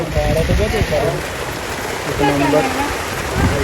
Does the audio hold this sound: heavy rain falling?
yes